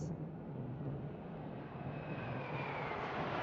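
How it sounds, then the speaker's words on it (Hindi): MiG-29K jet fighter roaring past during a Navy Day demonstration off Blue Flag beach in Puri, Odisha, a steady broad rumble that swells slightly, heard from a distance. "फॉल्क्रम नामरे प्रसिद्ध मिग 29 के प्रचंड गर्जन सहित निजर उपस्थिति जाहिर करुछि।"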